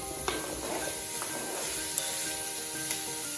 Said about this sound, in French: On a fait chauffer notre cocotte, on ne met pas de matière grasse, la saucisse en rend suffisamment et on les met à griller.